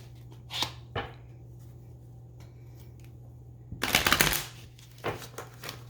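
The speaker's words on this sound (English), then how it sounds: "One more shuffle." Tarot cards shuffled by hand, a few quick papery riffles and snaps with a longer burst near the end, close and fairly quiet against a low steady hum.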